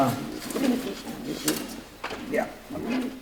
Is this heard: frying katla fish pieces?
no